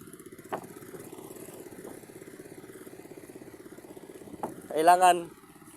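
Motorcycle engine idling and chugging on a rough rural provincial road, a steady low putter with a few clunks, moderately close, and a voice speaks briefly near the end.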